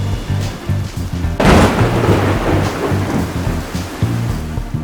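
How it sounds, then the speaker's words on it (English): Thunder rumbles loudly over a steady downpour of heavy rain that hisses throughout. "there's a big storm coming, full of high winds and heavy rain"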